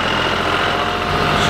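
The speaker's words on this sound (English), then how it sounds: "She's getting a lesson on how to drive a tractor." A tractor engine idles or runs steadily at an outdoor farm school, a continuous low rumble with broadband mechanical noise and no talk over it.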